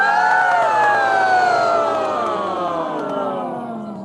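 Choir voices singing together in a warm-up, sliding in a smooth vocal siren that imitates an emergency siren; the blended tones glide steadily downward from high to low, sustained and fairly loud throughout.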